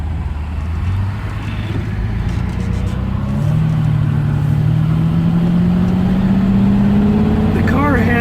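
A 1974 Jaguar XKE V-12 roadster with an automatic transmission pulls out into traffic, its engine note rising steadily as it accelerates, loud and close from inside the car.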